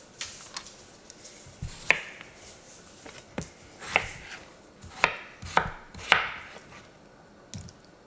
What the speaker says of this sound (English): So now I'm just going to start cutting up my potatoes.